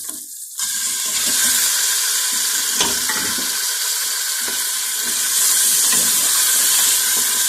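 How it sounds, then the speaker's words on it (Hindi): Loud, steady sizzling and crackling of chicken frying in hot ghee, a dense hiss that swells after a brief pause at the start. "अब मैं चिकन डालने लगी हूँ।"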